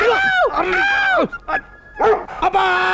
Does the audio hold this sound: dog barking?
yes